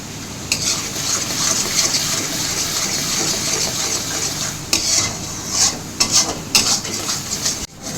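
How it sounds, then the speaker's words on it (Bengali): Spices with red chili powder stir-fry in oil in a pan, giving a steady close sizzle, with the scrape and clack of a spatula stirring at intervals throughout. "কিছুক্ষণ তেলের সাথে মশলাকে কষিয়ে নিয়েছি।"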